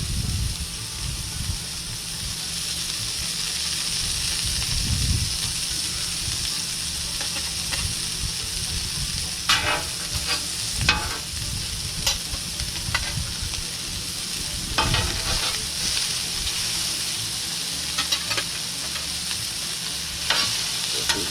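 A burger fries on an oiled Blackstone griddle aboard an RV, giving a steady loud sizzle throughout, broken by occasional scraping and tapping clicks of a spatula.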